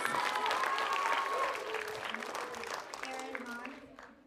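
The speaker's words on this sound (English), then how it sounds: "Let's give 5M a huge round of applause" Applause for class 5M at a school assembly, a loud sustained burst of clapping from a crowd of children that tapers off gradually toward the end, with some voices mixed in.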